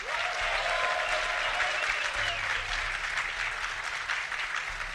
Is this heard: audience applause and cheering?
yes